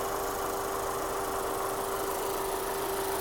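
The 1.8 petrol engine of a 2009 Audi A4 Avant idles smoothly and evenly at close range, a steady low hum with a faint tone and no other sounds.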